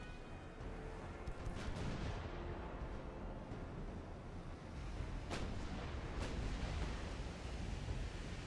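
Heavy, continuous booming of naval gunfire with a few sharp cracks rising above it, like distant big guns firing, from the game Ultimate Admiral: Dreadnoughts, with no talking.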